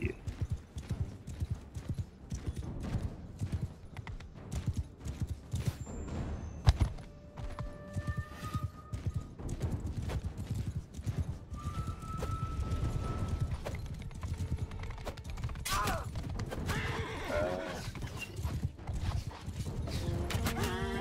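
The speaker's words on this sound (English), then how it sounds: "God, that horse. God, the horse." In the video game Mount & Blade Bannerlord, a horse's hooves clip-clop steadily and close by for the whole stretch, with creaking gear and a short neigh partway through.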